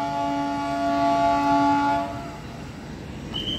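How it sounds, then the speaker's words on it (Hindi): A train at Srinagar railway station, running between Banihal and Budgam, sounds a long steady horn blast for about two seconds. The horn is loud and near, then fades into low rumbling ambience with no talk. "ये जो ट्रेन है बनिहाल से लेके बड़गाम तक जाती है"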